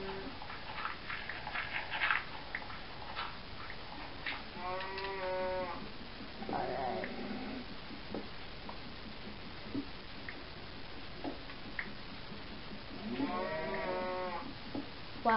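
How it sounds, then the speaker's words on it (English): Cows moo in the Minecraft video game, with three or four drawn-out, fairly loud moos spaced across the stretch over a faint background hiss; no one talks. "Wow, those cows are loud."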